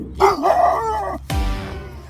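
A human voice imitates a dog barking through a Mijia karaoke microphone voice effect, giving a processed, howling bark-like call followed by a second deeper yelp, close and loud.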